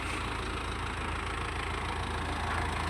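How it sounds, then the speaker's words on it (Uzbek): A Belarus tractor's diesel engine idles at a steady low rumble, close and continuous with no speech over it. "O'zlarining traktorini minib keldi,"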